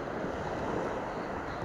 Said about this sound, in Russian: Такая вот у нас волна